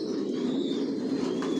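Racing pigeons coo low and steady inside their loft, close by and continuous for the whole moment.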